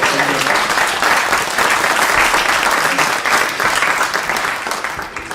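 Sustained, loud applause from a gathered crowd at a farewell party for Charles Bernard, a long-serving member of a business association; the dense clapping holds steady throughout and tapers slightly at the end.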